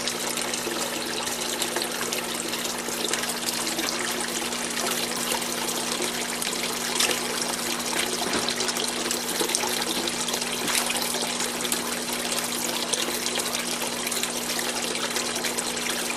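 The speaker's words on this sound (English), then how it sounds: "all the pumps are on right now, so they're probably a little weirded out by all the water movement up top" Aquarium pumps churn and splash the surface of a tilapia tank in a basement garden, making a continuous bright trickling rush of moving water with a steady low hum underneath and no talking.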